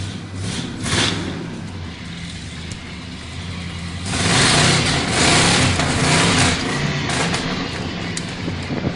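Pickup truck engine accelerating on a ride, a steady nearby motor drone that swells louder and rougher about midway, no voices over it.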